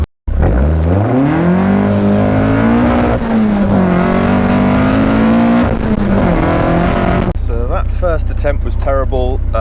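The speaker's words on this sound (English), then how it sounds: "lots of wheel spin, bumpy road, spinning in second gear quite a lot." A loud GBS Zero car engine revs and strains at high pitch during a 0-60 mph run with wheel spin in second gear on a bumpy road, rising and holding under load, then dropping into rough rattling bursts near the end.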